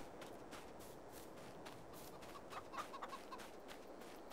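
Chickens in the Farming Simulator 22 game clucking softly over a steady ambient bed, with a brief cluster of brighter clucks near the end, no talking.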